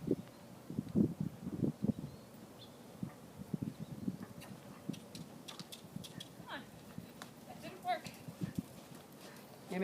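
Horse hooves clip-clopping on the soft footing of a barn arena at a canter, a steady irregular series of muffled thuds under ongoing talk, with faint rustling between the hoofbeats.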